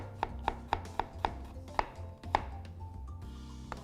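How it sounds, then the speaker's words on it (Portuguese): A sharp knife slowly and finely chopping an onion on a board, seven evenly spaced crisp taps followed by quieter scraping, close and clear. "Então vou picar a cebola aqui devagarzinho, bem fininho."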